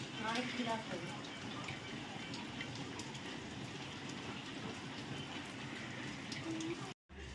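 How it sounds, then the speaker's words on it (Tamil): Heavy rain pours steadily outside, a dense continuous hiss of drops on surfaces, with a person talking faintly beneath it and a brief dropout near the end. "நேற்றுலேருந்து அப்படியே அடமழை பெஞ்சிக்கிட்டே இருக்குது"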